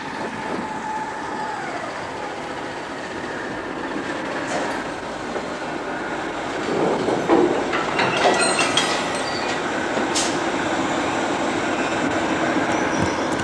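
An electric train runs along the rails, giving a steady rumbling roar with wheel noise and faint squeals, the sound swelling a little partway through.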